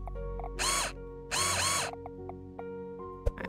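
A crafting machine in the video game Common'hood running in two short whirring bursts, drill-like and fairly quiet, followed by small clicks and a sharp final knock.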